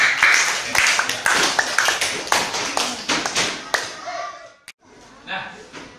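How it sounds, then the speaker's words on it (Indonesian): Fifth-grade students in a maths classroom clapping, a burst of sharp, uneven handclaps close by for several seconds that thins out and stops abruptly, then a brief voice. "Kasih tepuk tangan dulu untuk tadi"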